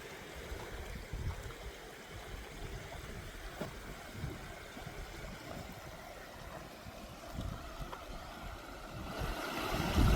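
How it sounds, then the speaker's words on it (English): Floodwater rushes from every direction over a washed-out railway line, undermining the tracks; a continuous broadband roar of turbulent water, fairly distant and steady, swelling slightly louder toward the end. "That water's coming from every direction here."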